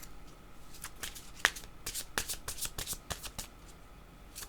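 Playing cards shuffled by hand close up, a quick run of crisp riffling flutters and snaps with brief pauses between, quiet and alone.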